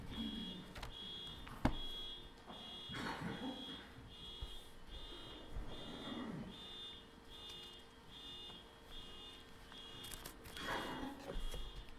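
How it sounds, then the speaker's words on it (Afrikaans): In a church, an alarm buzzer pulses over and over as a rapid string of high, even beeps, moderately loud, while faint footsteps and shuffling move around it. "Klik daai alarm bekend."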